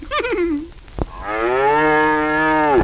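A cartoon cow gives a long, loud, drawn-out moo close by, preceded by a brief higher call and a short thump.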